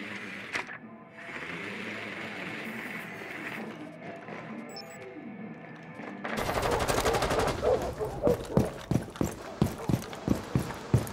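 Rapid gunfire in the Rainbow Six Siege video game, a burst of automatic shots followed by a rhythmic string of sharp, loud single reports close up.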